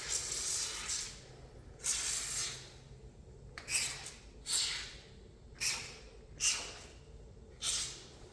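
An aerosol can of penetrating oil hisses in seven short bursts onto a Honda Element rear wheel bearing, each spray about a second long with brief pauses between, close and fairly loud.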